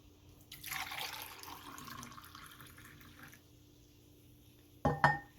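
Homemade kombucha poured into a glass, a soft steady trickle of liquid for a few seconds that fades out, followed by a brief louder clink near the end.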